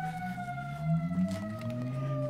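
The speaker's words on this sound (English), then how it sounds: "Do you hear that police siren?" A police siren wails steadily in the distance, its tone slowly sliding, with low traffic rumble underneath.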